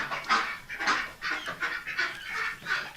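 Geese honking close by on a farm, a rapid series of harsh repeated calls overlapping in a busy rhythm, loud and without talk.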